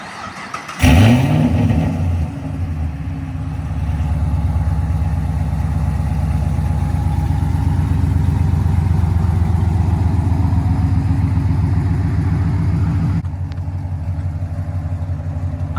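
Supercharged LSA V8 in a Chevy SS, 800+ horsepower with a Kong X-Port setup, stock cam, catches with a sharp start, then holds a loud, steady, throaty rumble close by before easing down near the end.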